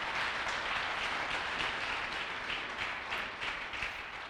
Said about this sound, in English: if you guys could give these guys a round of applause